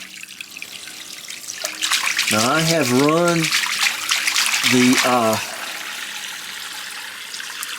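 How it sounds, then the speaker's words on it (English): Hot water running from a tap in an outdoor redneck spa bath setup, a steady broadband rush that continues throughout while a person speaks over it partway through. "Hot water already."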